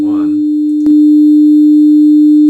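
A steady synthesized pure tone switches on and holds, loud and unwavering, after a brief burst of voice at the start.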